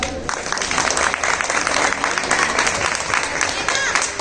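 Audience applause at a stage event, a loud, dense burst of clapping from a crowd that carries on steadily throughout.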